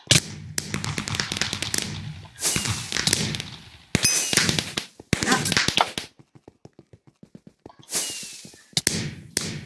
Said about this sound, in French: Shootcraft, en fait, si tu veux, tu tires des feux d'artifice.